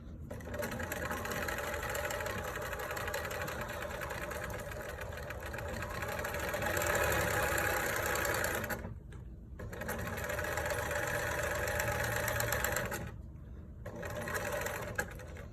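A sewing machine stitches a fabric face mask across its seam allowance in steady, continuous whirring bursts, with two brief pauses midway, close and moderately loud.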